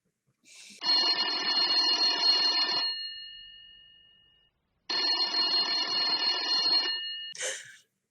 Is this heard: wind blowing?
no